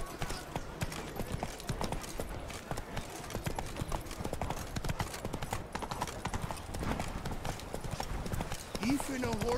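Horse hooves galloping in a steady clip-clop rhythm while riding in The Witcher 3, with game music and a voice talking over the hoofbeats throughout.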